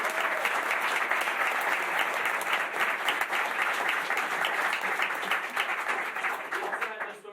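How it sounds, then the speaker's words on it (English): An audience at a school board meeting applauds to honor a coach of the year, a dense, steady roll of clapping that stays loud throughout and thins out right at the end. "so give him a round of applause."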